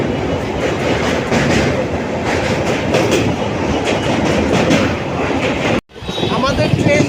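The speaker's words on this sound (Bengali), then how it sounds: "এটা দক্ষিণেশ্বর বালি ব্রিজ ক্রস করছে" Passenger train crossing the Bally bridge at Dakshineswar, heard from on board as a loud, steady rumble with rhythmic clickety-clack of the wheels on the rails, then a sudden brief dropout before the roar returns.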